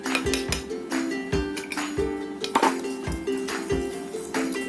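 A spoon scrapes and clinks rhythmically against the sides of a container while sugar is stirred into milk. The steady, close strokes repeat about twice a second with no voices.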